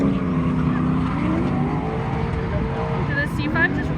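Chevrolet Corvette C5 engine roaring loud and sustained at a drift event, with tire squeal and crowd voices mixed in, close and continuous throughout.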